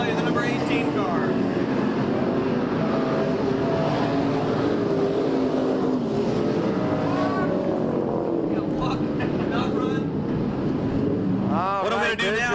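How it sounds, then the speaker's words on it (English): The number 18 race car in a 1996 Budweiser Racing Series event at Bakersfield, California roars steadily, a continuous engine drone with rising and falling pitch, heard under an announcer speaking. "here comes your winner of 18, Kevin Collier."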